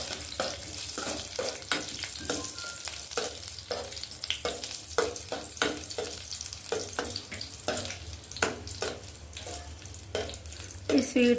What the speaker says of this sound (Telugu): ఇప్పుడైతే ఇందులో నేనైతే నెయ్యి వేసుకుంటున్నానండి. ఇప్పుడు డ్రై ఫ్రూట్స్ అయితే ఫ్రై చేసుకోవాలి.